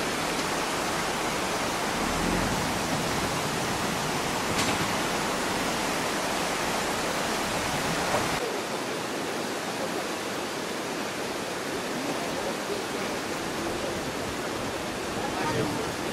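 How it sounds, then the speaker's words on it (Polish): Floodwater rushes continuously through village yards in a broad, steady roar, loud and close, with no voices heard. "Ta woda, ona cały czas tutaj podbiera te podwórka."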